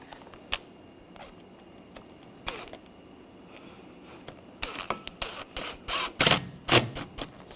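Screws being driven and snugged into the radiator cooling fan control module on a 2004-2009 Audi A4, giving a series of close ratcheting clicks in quick bursts that grow louder and denser toward the end.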